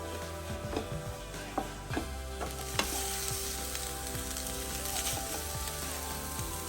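Sweet leaf (madhura cheera) with grated coconut stir-fried in a pan, a steady dense sizzle running throughout with scattered scraping taps of the stirring spoon, close and fairly loud with no talk.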